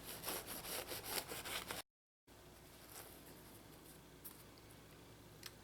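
A knife saws with rough scraping strokes through a soft Trinidadian pot bake, close and fairly quiet, with a brief silent gap partway through followed by softer cutting and rubbing.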